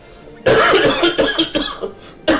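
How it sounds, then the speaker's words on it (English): A person coughs harshly several times in a close, loud burst, followed by another cough after a brief pause. "I'm gonna cough."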